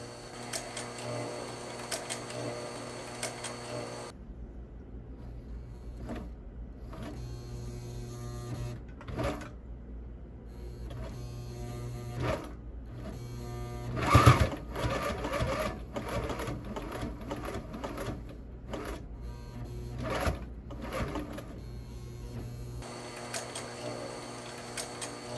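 Sailrite sewing machine driven by a WorkerB motor stitching through leather, a steady mechanical whirring and clatter running for most of the clip with no talk.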